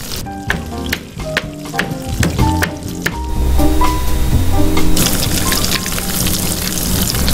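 Garlic tossed into a hot pan of oil with mustard seeds, cumin, green chillies and curry leaves, crackling and popping at first, then settling into a dense, steady sizzle close by, with no talking.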